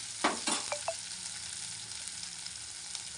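Onion frying in a pan for a Maharashtrian besan dish, a soft continuous sizzle opened by a few quick scrapes and clinks of stirring, then settling into a quiet steady hiss.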